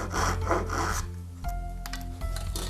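Close rasping strokes of a Japanese handsaw cutting wood, a quick back-and-forth burst followed by slower, scraping pulls with tonal squeaks, with no talking.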